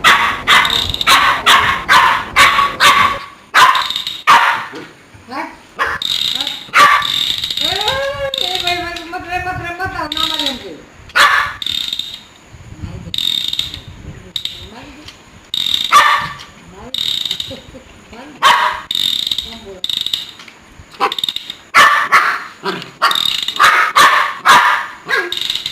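A loyal dog guarding its owner barks loudly and repeatedly in rapid bursts, with a whining yelp in the middle and short pauses, close by.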